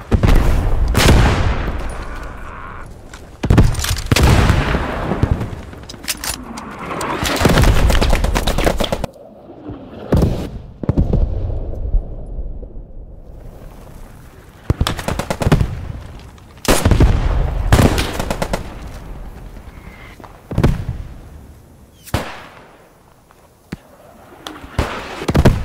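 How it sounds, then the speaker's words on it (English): Grenade blasts and bursts of gunfire from the World War II shooter game Squad 44 crack and boom repeatedly at close to mid range, loud sharp impacts separated by short lulls of rumbling echo. "Watch out, grenades."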